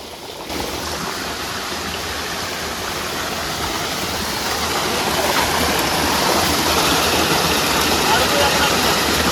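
Waterfall deep in a cold hillside forest, water tumbling down from the mountain, heard as a steady, loud broadband roar that fills the scene throughout and swells slightly toward the end.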